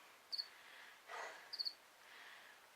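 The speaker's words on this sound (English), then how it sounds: "Crickets." Crickets chirp faintly in two short, separated bursts against a quiet background.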